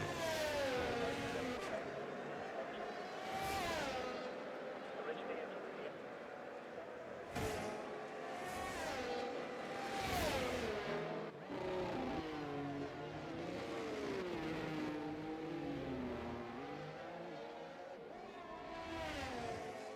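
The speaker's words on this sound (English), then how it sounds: "Just listening to these cars roar." V6 race car engines roar and whine past in overlapping waves, rising and falling in pitch as they accelerate and pass, loud and continuous, during qualifying laps at the Austrian Grand Prix.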